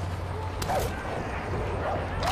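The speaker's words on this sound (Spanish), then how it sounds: "Hay un perro, porque lo estoy escuchando." A dog barking in the video game Far Cry 5, with a couple of short yips and barks in the middle distance over a steady game soundscape.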